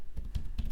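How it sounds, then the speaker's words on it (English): Close, brisk keystrokes on a computer keyboard while a program for a Raspberry Pi is typed, a few quick clicks in an uneven rhythm with no speech. "So let's start typing the program."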